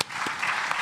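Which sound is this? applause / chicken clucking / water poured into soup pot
applause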